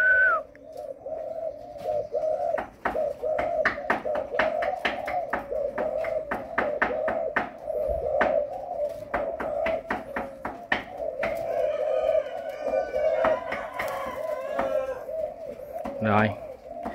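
Malaysian and Thai black doves coo in a breeding yard, a steady run of repeated rhythmic coos close by, with a few sharper bird calls and claps near the end.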